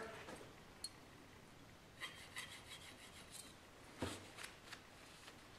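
A plane iron's bevel is rubbed on a sharpening stone in short, faint rasping strokes, with a couple of sharper scrapes and no talking.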